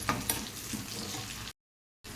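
Spinach sizzles and fries in a hot pan, a dense crackling hiss with a couple of sharp pops near the start, briefly cut to silence before the sizzle resumes.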